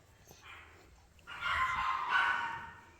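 Small dogs arriving at a home yip and bark in a busy, overlapping burst, moderately close but not loud, with rising whimpery calls and a quiet room behind them.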